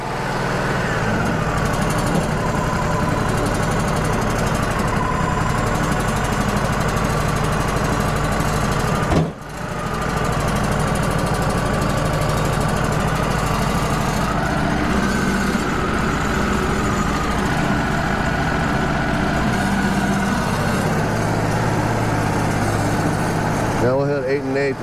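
A Wood-Mizer LT35 sawmill cuts through a knotty 8x8 burr oak beam, a steady loud engine drone with a whining blade, briefly dipping once, while someone talks over it.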